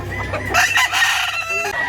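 Rooster at a busy chicken market in Mantalungon, Barili, Cebu, crowing loudly and close by, with clucking from other fowl around it.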